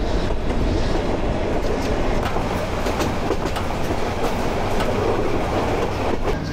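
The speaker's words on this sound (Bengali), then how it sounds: "এই যে কুয়াশার মধ্যে দিয়ে আমাদের ট্রেন চলতেছে।" The Mahanagar Express runs through thick fog, a steady loud rumble of wheels and carriages with rhythmic clickety-clack heard from on board, continuous and without voices.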